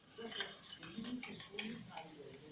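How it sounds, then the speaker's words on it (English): Pancake batter is stirred briskly in a bowl with a utensil, giving quiet, rhythmic scraping and clinking taps against the sides, close up and without talk. "you make sure you stir it very well so that everything will be smooth"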